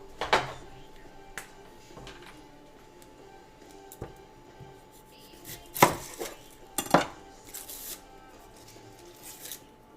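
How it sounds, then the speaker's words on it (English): Knife chopping food on a cutting board for tacos in a home kitchen, a handful of sharp, irregular close thuds and clacks over quiet background, with some light dish clatter. "I'm just going to chop up some of this for our tacos tonight."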